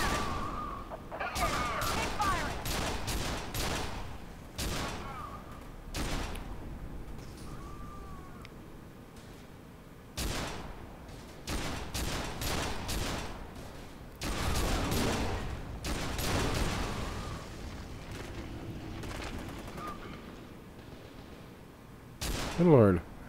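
Gunfire in the video game FEAR 2: Project Origin, with sharp shots fired in several clustered bursts separated by quieter gaps, mixed with game sounds and someone talking.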